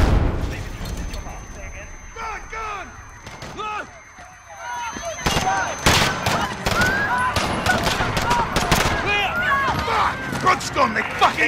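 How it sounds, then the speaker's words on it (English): Gunfire and chaotic action erupt in Call of Duty: Modern Warfare during a police confrontation in London, with sharp cracks and impacts mixed among shouting voices and commotion throughout. "Shots fired."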